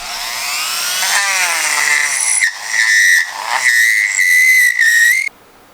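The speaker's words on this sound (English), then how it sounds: "start drilling this deeper so that the neck can fit in there better." A small rotary tool drills deeper into a custom action figure to fit the neck, a loud steady high whine that shifts pitch as the bit loads and eases, then cuts off abruptly.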